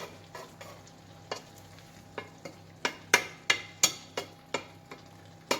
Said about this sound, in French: On prend nos œufs et on vient verser nos œufs comme ceci au-dessus.